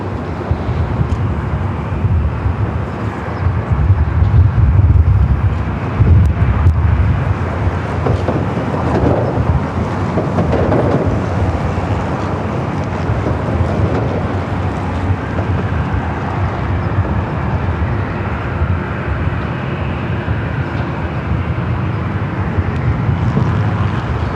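A heavy low rumble of a jet engine rolls on steadily at Los Angeles LAX airport as an airliner, likely the Amsterdam-bound Dreamliner, takes off, powerful and sustained with a broad roar that swells slightly early on.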